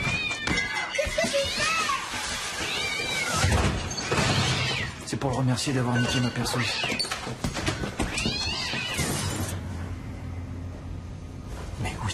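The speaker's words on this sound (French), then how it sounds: "C'est un joli petit chat." A small pet cat meowing indoors during a family scene, several short mewing calls surfacing in the first half under near continuous talking and background bustle.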